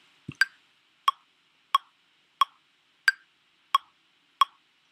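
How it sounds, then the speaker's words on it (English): Sharp, evenly spaced software metronome clicks in Ableton sound seven times at a steady tempo, crisp and isolated against near silence. "press play on it so you can hear the metronome first."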